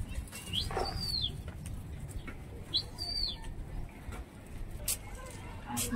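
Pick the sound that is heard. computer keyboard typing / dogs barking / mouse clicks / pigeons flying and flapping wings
pigeons flying and flapping wings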